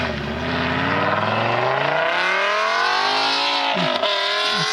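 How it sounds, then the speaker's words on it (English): A high-revving Ferrari with an F1 sports exhaust climbs and falls in pitch, screaming loudly and continuously, then blips sharply near the end. "That sounds weird. It's the Insane F1 exhaust."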